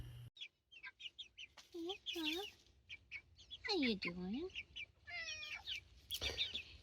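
Backyard chickens near their coop cluck and squawk in bursts, close and clear, while a person briefly speaks between the calls.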